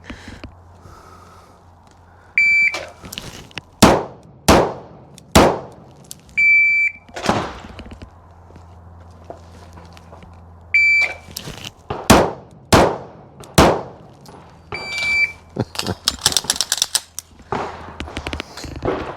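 Pistol shots from an M17 handgun at an outdoor shooting range, sharp loud cracks fired in spaced groups of several shots with short pauses between volleys, along with faint beeping tones and light background noise.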